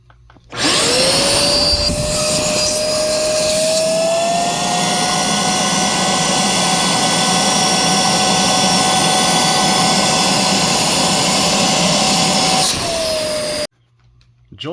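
A Shark CarpetXpert EX201 vacuum cleaner roars steadily at close range for about thirteen seconds during a suction test, with a rising whine as it spins up, then cuts off abruptly near the end.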